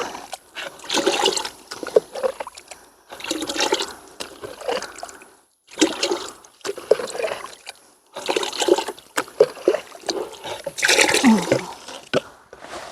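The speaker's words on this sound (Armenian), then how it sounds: "ջուր տանեմ լցնեմ" Water is poured onto garden plants in several separate splashing bursts, each running a second or two before a short pause.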